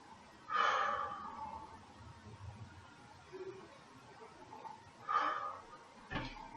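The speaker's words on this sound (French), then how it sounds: "Je fais 2 respirations." Two slow, deep breaths taken with eyes closed during a balance exercise while standing on one foot, each a soft audible exhale spaced several seconds apart in a quiet room.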